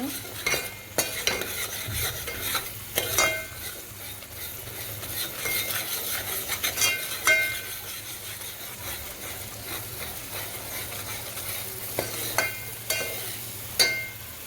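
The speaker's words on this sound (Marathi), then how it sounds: "आता मसाला घातला की छान असं परतून घ्यायचं तेल सुटेपर्यंत" Ground masala paste for a Maharashtrian dry fish curry is stirred and sautéed in hot oil, giving a steady soft sizzle broken by repeated scraping and clinks of a spoon against the pan, close and moderately loud, with no talking.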